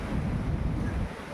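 Strong mountain wind buffets the microphone in a loud, rumbling roar that gusts steadily before easing slightly at the end.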